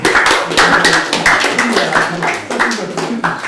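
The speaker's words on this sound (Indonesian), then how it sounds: "Tepuk tangan apa yang dapat Fuad?" A group claps along on a talk show featuring IPDN drum corps stickmaster and majorette guests, sharp repeated hand claps in a loose rhythm close by, with voices talking and laughing over them.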